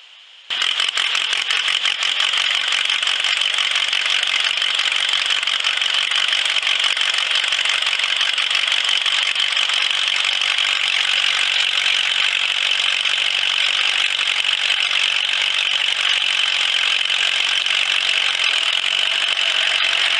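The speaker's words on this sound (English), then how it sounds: "Let's cut some wood." An old buzz saw driven by an old Case VAC tractor cuts wood, giving a loud, steady mechanical whine and roar that runs without a break for about twenty seconds, with no one talking.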